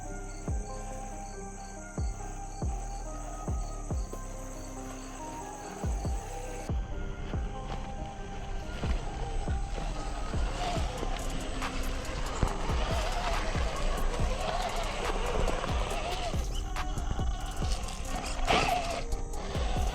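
A small RC crawler with a brushed motor on a 2S battery creeps along slowly in low gear. A thin, steady motor whine mixes with ticking gears and scattered crunches over terrain, close up and continuous.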